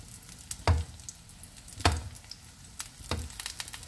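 Meat frying in a pan over medium heat for an egg-and-bread breakfast dish gives a steady soft sizzle, broken by about three louder bursts of spatter or stirring, heard up close with no one talking.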